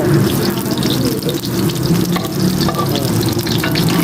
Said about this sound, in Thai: อันนี้ก็กระทะที่สองที่กำลังทอดอยู่